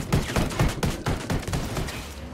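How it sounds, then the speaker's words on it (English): Shotgun fire in the video game Ghost Recon Wildlands: loud, close blasts in a quick, steady run of about half a dozen shots, each with a short decaying tail. "30 shotgun shots."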